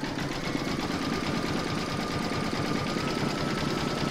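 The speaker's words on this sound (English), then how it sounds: "You're now going to pop that back into your machine and stitch round number 12, and that's going to do the satin stitching along the edge" An embroidery sewing machine satin stitches the edge of an in-the-hoop pencil case, a steady fast mechanical whirring and rapid needle pulsing that runs close and unbroken throughout.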